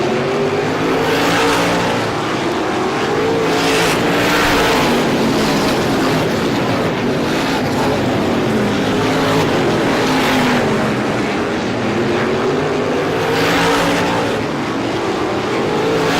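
Race cars roar past at Star Speedway during the ISMA Classic 150, a loud continuous engine drone with rising and falling pitch as the cars sweep around the oval.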